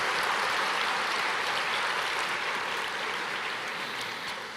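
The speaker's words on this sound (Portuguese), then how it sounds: "Aplauda o Senhor." A church congregation applauding together, a dense, sustained wash of clapping that stays steady and slowly fades toward the end.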